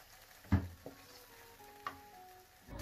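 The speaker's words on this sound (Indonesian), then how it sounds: "ini kita tumis sampai benar-benar matang bumbunya" Soft sizzling of seasoning stir-frying in a pan before tofu and garlic chives are added, with a few sharp scrapes and clinks of a utensil stirring, quiet and close, no talking.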